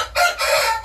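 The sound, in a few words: Japanese Shamo rooster crowing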